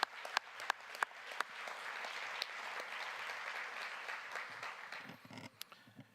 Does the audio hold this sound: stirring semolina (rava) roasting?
no